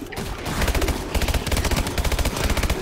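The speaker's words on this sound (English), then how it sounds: "I'm shooting." Rapid automatic gunfire in Call of Duty: Advanced Warfare Exo Zombies, loud and close, bursts of evenly spaced shots firing in quick rhythm with brief gaps between volleys.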